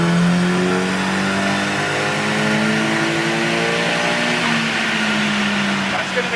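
A boosted Nissan 180SX engine revs hard at full throttle, and its loud, sustained tone climbs steadily as the engine pulls under load.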